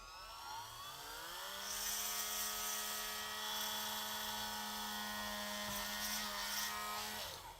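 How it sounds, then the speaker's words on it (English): A Dremel rotary tool drills into a plastic knee piece of a Mafex Comic Spider-Man action figure with a steady high whine. It spins up, holds for several seconds and then winds down. "we are going to drill into this piece right here"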